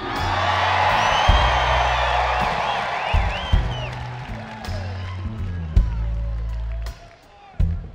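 Concert crowd at an outdoor Farm Aid 2018 country show screaming, whooping and cheering loudly and steadily, with low music rumbling underneath throughout.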